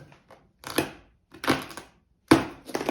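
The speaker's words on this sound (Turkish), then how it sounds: "şu taşıma bantlarından kurtulmamız lazım" Packing straps being cut off a large cardboard box holding a UREVO U1 walking treadmill, heard as three or four sharp snapping cuts with rustling in between, fairly close, with no talk over them.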